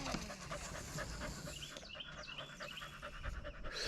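A dog pants in rapid, breathy puffs close by, continuous across the few seconds, with faint outdoor background noise from a fishing spot.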